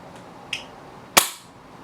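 An Echo1 ASR airsoft sniper rifle fires outdoors: a faint snap, then one sharp, loud crack with a short decaying tail, close by and with no talk.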